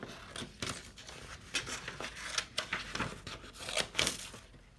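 Scissors snip through paper while cutting out a small drawn paper figure, a series of crisp irregular cuts and crinkles at close range with no talk.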